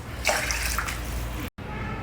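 Water pours steadily into a pot of rice for South Indian curd rice, a continuous close splashing stream lasting about a second and a half that cuts off abruptly, then a faint room background.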